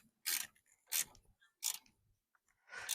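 Metallic ratcheting from a wrench snugging a banjo bolt onto a brake line on a 2007–2014 Jeep Patriot: four separate bursts of clicks, close and moderately loud, with short quiet gaps between them.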